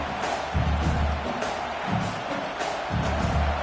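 Stadium crowd at a college football game between South Carolina and Clemson, a loud sustained roar that swells in rhythmic pulses as fans try to keep the opposing offense pinned deep near its own goal line.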